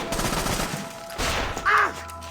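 Sniper gunfire in the video game Assassin's Creed Rogue: a few loud, sharp broadband shots with a gap between them, set against continuous game ambience, the last followed by a brief whistling tone.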